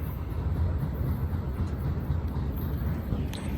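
A train rolling past a railroad crossing in Springfield, Ohio, heard as a steady low rumble and rattle of rail cars, continuous and fairly close, with no voices.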